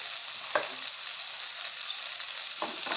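Cauliflower samosa filling with coriander and cumin powder sautéing in a pan, a steady soft sizzle throughout, with a couple of stirring clinks of a spoon against the pan.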